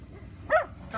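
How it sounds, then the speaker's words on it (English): A small house dog lets out one brief bark from some distance, moderately faint against low background noise. "the barking you hear is actually my little house dog."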